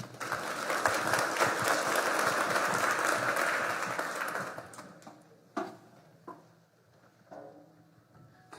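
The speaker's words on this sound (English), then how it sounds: "A big round of applause." Audience applause at a startup innovation competition, a full burst of crowd clapping for several seconds that dies away, leaving a few scattered claps and faint room sounds.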